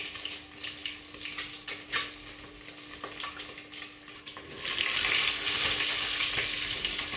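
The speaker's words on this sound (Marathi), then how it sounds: "अंडी तेलात भाजायला चालू आहे." Country chicken eggs frying in oil in a village-style kitchen, giving a soft, steady sizzle that swells louder near the end, heard up close with faint stirring noises.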